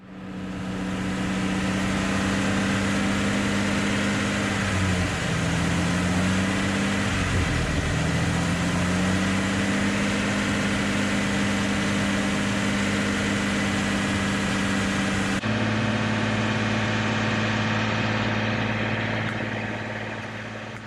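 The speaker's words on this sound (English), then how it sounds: "sit here and rev it until the smoke stops" A Jeep Wrangler TJ with the 4.0 engine runs steadily after a Seafoam cleaning treatment, a loud continuous low hum with a brief rev dip partway through and a shift in tone near the end, with no talking.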